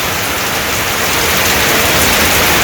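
Steady rain pours down on a Bangladeshi village, a dense, even hiss of drops striking nearby surfaces that holds at the same loudness and builds only slightly, with no voices.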